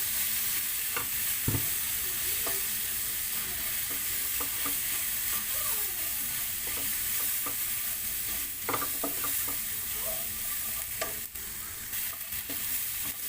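A spoon stirs cumin powder into dal in a hot pan, giving a steady sizzle with repeated scraping and clinking strokes throughout.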